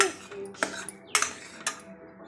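A utensil stirs cooked stem amaranth greens in a pan, a few distinct clinks and scrapes spaced irregularly, close and fairly quiet.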